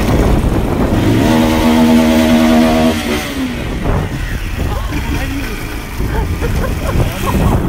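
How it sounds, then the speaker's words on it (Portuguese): A Honda motorcycle engine drones with a steady tone, then revs and rumbles loudly while riding through a low tunnel, echoing, with voices talking over it. "Pra gente ver o barulho que vai fazer a gente passando no túnel."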